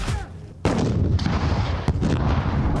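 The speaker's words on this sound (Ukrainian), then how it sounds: "гранатометник відпрацьовує РПГ по імітованих ворожих позиціях." A sharp, loud blast from an RPG grenade launcher fires at a military training range, followed by a rumbling echo and a second crack about a second later.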